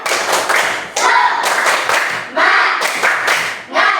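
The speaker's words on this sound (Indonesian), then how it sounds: "ayo semuanya kita tepuk semangat dulu ya" A classroom of students performs the tepuk semangat rhythmic clapping chant, with loud, tightly grouped bursts of hand claps in a steady pattern and short pauses between phrases, alongside chanting voices.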